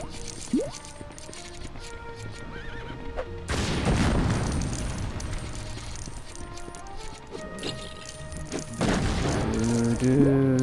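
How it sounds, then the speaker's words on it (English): A horse whinnies near the end amid LEGO Indiana Jones game noise, mechanical clanks and a low rumble in the background. "I did just hear a horse just now"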